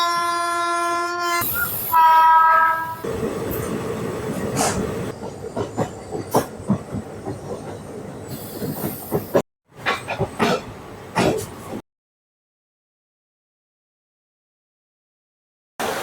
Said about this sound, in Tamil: ஈரோடு ஜங்ஷன்லேருந்து மேட்டூர் டேம் வரையும் ரன் ஆகக்கூடிய பேசஞ்சர் ட்ரெயினை பற்றி தாங்க சொல்லிட்டு இருக்கேன்